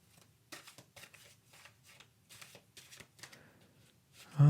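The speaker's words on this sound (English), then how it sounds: "Actually, I'm going to shuffle." Tarot cards are shuffled in a series of quick riffling bursts, soft and close, ending in a brief louder thump.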